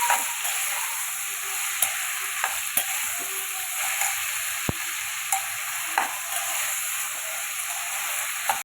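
Tomatoes and ridge gourd simmer in a pan for a village-style prawn curry, with a steady soft sizzle and sharp, scattered spatula taps and scrapes up close.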